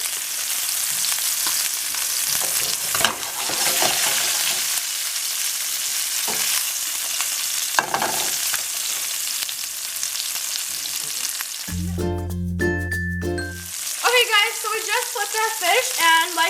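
Basil garlic salmon searing in a pan, a loud continuous sizzle with occasional crackles and spatters, close up, broken by a brief burst of music toward the end.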